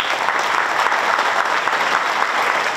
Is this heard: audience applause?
yes